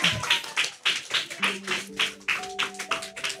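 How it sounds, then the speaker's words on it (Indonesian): A youth church service audience claps in a steady rhythmic beat, with sharp regular claps over held keyboard-like musical notes. "terima kasih tepuk tangan dulu"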